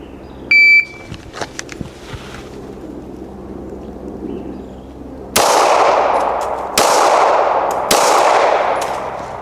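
A range timer beeps, then three loud gunshots ring out at an outdoor shooting range from 7 yards, evenly spaced with sharp cracks and long decaying echoes.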